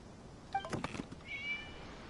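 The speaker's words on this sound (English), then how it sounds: "It was just a cat." A cat meows in the video game Genshin Impact: one short, faint meow, then a second drawn-out mewing cry, both soft against a quiet background.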